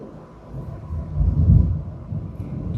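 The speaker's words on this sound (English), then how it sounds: "Do y'all hear the thunder?" Low rumbling thunder from a thunderstorm, swelling to a broad, deep peak in the middle and then easing off. It sounds distant and continuous, with no voices over it.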